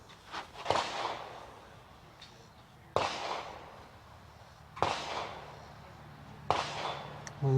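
Shots from a Uintah Precision UPR-15 .223 rifle ring out as four sharp reports spaced about two seconds apart, each fading in a short echo, fairly distant and faint over quiet ambience.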